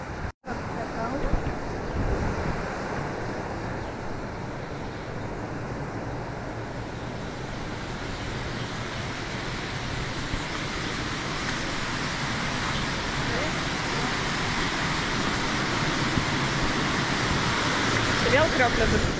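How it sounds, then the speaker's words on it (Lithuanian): A small waterfall stream on Koh Samui rushes and babbles in a steady, broadband wash of water close by, with voices occasionally heard over it. "Nu, čia tiesiog toks upelis čiurlena."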